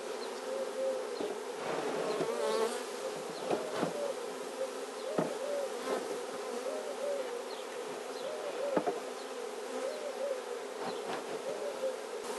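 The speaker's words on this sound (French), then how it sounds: "J'ai juste cette grappe d'abeilles là, je voudrais la faire rentrer" A cluster of honeybees from a swarm buzzes steadily and closely as it is coaxed into a small nucleus hive, with sharp individual bees darting near and a constant dense hum throughout, no voices.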